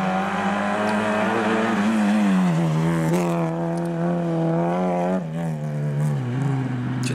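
A Peugeot 106 rally car engine revs hard and shifts through gears, its pitch climbing and dropping as it drives past at speed, loud and continuous.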